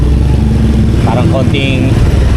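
A motorcycle rides through rush-hour traffic, its steady low engine rumble running continuously beneath people talking close by.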